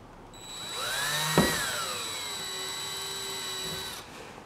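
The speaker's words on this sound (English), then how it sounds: "center your drill bit in the divot, suck it up, and just squeeze the trigger" A power drill whines loudly while drilling into a new car's body, its motor pitch rising and then holding steady for several seconds before stopping.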